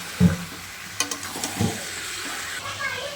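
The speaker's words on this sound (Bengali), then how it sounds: "এখন মা দিয়ে দিবে কড়ার মধ্যে মাটনগুলো।" Mutton pieces coated in oil drop into a hot karai and start frying, giving a close hiss and sizzle with a few thuds and stirring knocks. There is no talk.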